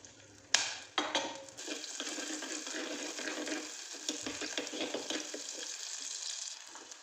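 Shallots frying in coconut oil in a clay pot on the stove, a dense steady crackling sizzle after a couple of sharp drops into the pot, close and fairly loud with no talking.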